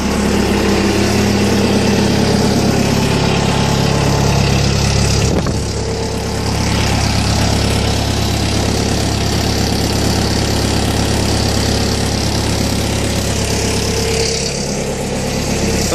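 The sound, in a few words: Bobcat S250 skid steer engine idling after cold start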